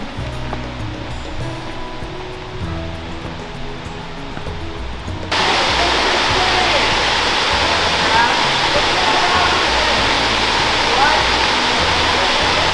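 Machine Falls, a waterfall in Tennessee, roars as a steady broadband rush of water that grows louder and closer partway through and keeps pouring without a break.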